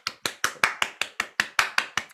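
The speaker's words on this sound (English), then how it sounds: "round of applause" Rhythmic hand clapping, about eleven sharp claps spaced evenly at a steady pace, close and fairly loud with nothing else underneath.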